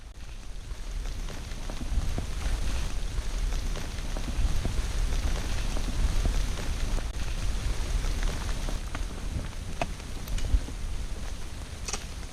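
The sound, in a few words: rain falling on Appalachian Trail hike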